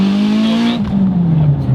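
A Mitsubishi Evo X with an open dump valve revs its engine, the exhaust note rising steadily in pitch and then dropping off with a gritty rasp, close and loud with no talking.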